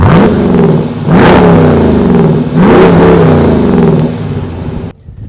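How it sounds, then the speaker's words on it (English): A 2022 Dodge Durango SRT 392 HEMI V8 revs hard three times in quick succession through its exhaust, each roar swelling and falling back to a loud rumbling idle before cutting off abruptly. "our first test is our exhaust test"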